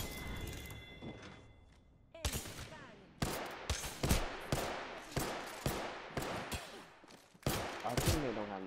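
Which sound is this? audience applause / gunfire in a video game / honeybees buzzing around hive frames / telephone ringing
gunfire in a video game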